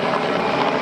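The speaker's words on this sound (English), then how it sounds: "and the helicopters" Helicopter in flight, a loud, steady rotor and engine roar filling the short stretch without a break, close and dominant with no talk.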